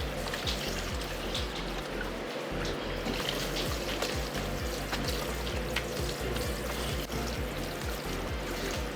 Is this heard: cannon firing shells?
no